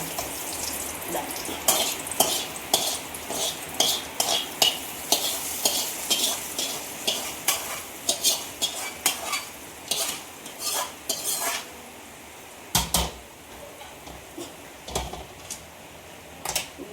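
A spoon scrapes and clatters against a pan in quick repeated strokes while food sizzles underneath, with a brief pause before the stirring resumes.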